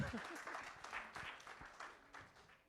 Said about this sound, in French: Il faut quand même, voilà, applaudissements quand même